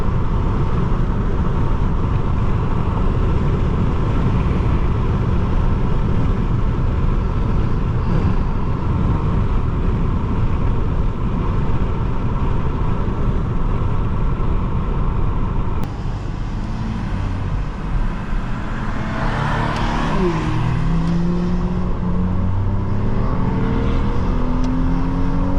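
A 2004 Nissan Maxima 3.5 SE with a 4-speed automatic accelerates hard, its loud engine roar and road noise steady from inside the cabin, with a gear change partway through and no talk.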